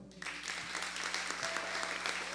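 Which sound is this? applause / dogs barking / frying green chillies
applause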